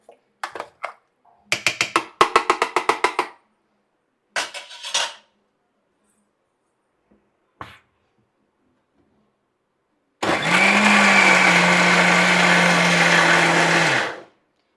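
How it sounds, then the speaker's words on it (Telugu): Green chilli peanut chutney is being made: a run of sharp metallic clanks and rattles comes first, then a pause, then a mixer grinder whirs loudly up close for about four seconds before stopping. "ఒకసారి ఇలా కలుపుకొని ఇంకొక కొద్దిగా మిక్సీ పట్టుకుందాం."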